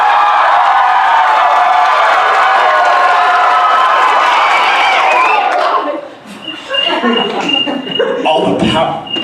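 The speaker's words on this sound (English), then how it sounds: "show me, get what you guys think a level 10 applause sounds like?" An improv comedy audience bursts into loud, sustained cheering, whoops and clapping for about six seconds, then the noise breaks up into scattered shouts and voices.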